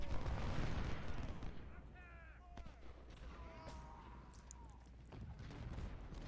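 Artillery in the Civil War strategy game Ultimate General: Civil War fires on enemy troops in dull, distant booms over a rumbling battlefield background, while someone talks over it and a bird caws faintly.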